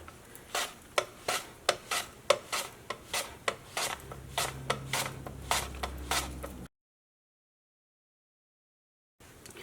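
Thin slices being cut from a not-so-fresh breadfruit for chips, giving a run of about a dozen crisp, evenly spaced slicing strokes close to the mic, then the sound stops.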